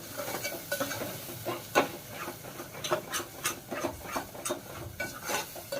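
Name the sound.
sautéing ground masala paste in oil in a pan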